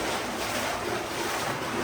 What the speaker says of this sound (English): it's getting louder, so some sort of water fall feature ahead